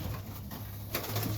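Serbian highflyer pigeons coo softly in a breeding loft at night, a low steady murmur of cooing repeating through the short stretch, quiet and close.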